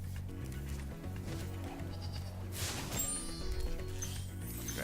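Sheep bleat in Spyro Reignited over the game's music and ambient sound effects, with a few short bleats spread through the passage.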